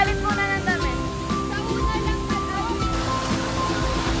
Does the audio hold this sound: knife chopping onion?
no